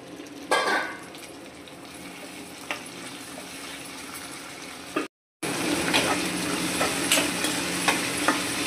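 Cut tomato pieces drop into hot oil in a pan for bitter gourd stew, a steady soft sizzle with a brief clatter at the start and light stirring taps later, quiet and close.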